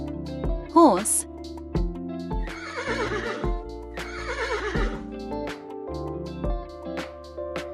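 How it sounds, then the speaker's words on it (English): A horse neighs in a sharp whinny, followed by a series of rolling snorts and whinnies over a steady musical backing with a regular beat. "Horse."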